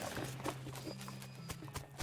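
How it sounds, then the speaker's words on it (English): Horse sounds in the video game West of Loathing: faint, steady clip-clopping hooves repeating in an even walking rhythm, with a low sustained hum beneath. "You hear the horse talking?"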